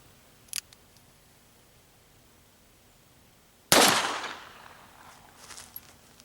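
Single sharp gunshot from a .357 Magnum Smith & Wesson 686 Plus revolver firing a lead-bullet hand load, preceded by a faint click, the loud report decaying into a brief echoing tail.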